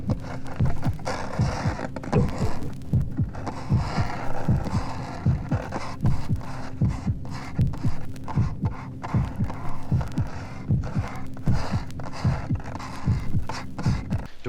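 Steady, throbbing heartbeat pulsing in a regular lub-dub rhythm over a low hum, loud and close throughout, made as a horror-album sound effect for a buried-alive scene.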